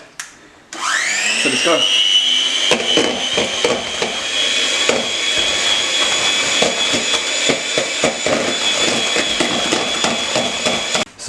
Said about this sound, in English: so beat that mixture with a mixer on its highest speed until it turns really thick and creamy